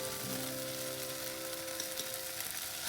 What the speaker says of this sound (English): Now I'm going to add the masala powder.